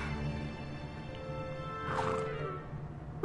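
A horse neighs in the video game Kingdom Hearts 3, a short whinny rising out of steady game music and ambient background sound.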